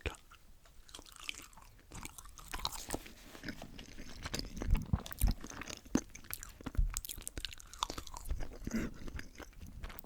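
French fries are chewed and crunched close to the mic, with steady wet mastication and irregular crisp crunches and bites repeating over ten seconds, no talking.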